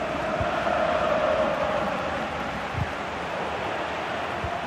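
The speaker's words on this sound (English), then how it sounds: "Listen to the crowd." Steady roar of a large stadium crowd in the video game FIFA 20 during a Champions League match, a broad continuous murmur with a faint sustained chant, no distinct voices standing out.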